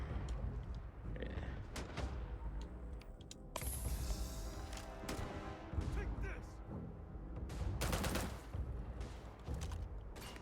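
Sharp shots and booming blasts from a powerful gun in Starfield ring out in scattered bursts, mixed with a voice talking over the firefight.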